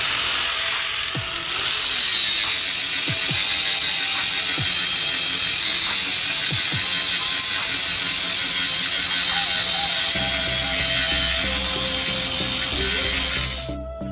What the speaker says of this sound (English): what we're going to use it today is to grind the bevel around these holes so that we have more bite for that fiberglass